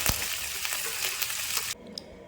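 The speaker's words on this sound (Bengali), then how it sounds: "তাই আমি প্রথমে সজনে ডাঁটা তেলে দিয়ে দিলাম, সঙ্গে নুন আর হলুদ দিয়ে দেব।" Drumstick (sajne data) pieces frying in oil with salt and turmeric in a Bengali home kitchen, a loud close sizzle with a sharp clatter at the start, stopping abruptly into near quiet.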